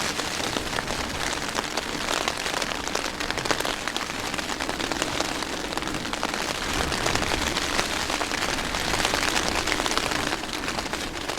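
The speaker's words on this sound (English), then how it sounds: "It's raining pretty darn good too." Heavy rain drums on a tent during a winter storm while backpacking in a blizzard, a dense, loud, unbroken patter close overhead that holds steady throughout.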